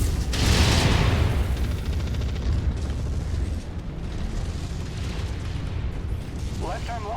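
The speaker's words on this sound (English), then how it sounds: "Incoming missile." An incoming missile explodes in a MechWarrior video game with a loud, booming burst near the start that fades into a rumbling tail, followed by in-game voice chatter.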